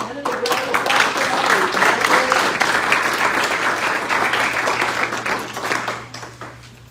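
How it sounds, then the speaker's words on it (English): Round of applause at a school board ceremony honouring October students and employee of the month, steady crowd clapping lasting about six seconds before fading, with a low hum underneath. "it's a round of applause for"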